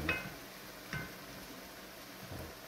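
Chicken sautéing in a pan for chicken afritada gives a soft, steady sizzle with a few faint stir scrapes, heard close and alone.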